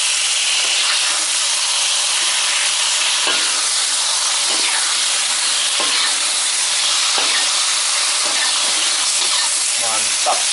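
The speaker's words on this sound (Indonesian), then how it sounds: "masukin telur yang sudah kita goreng tadi" Fried egg stirred into a butter sauce in a hot pan, giving a constant close sizzle and hiss with a few scraping stirs throughout.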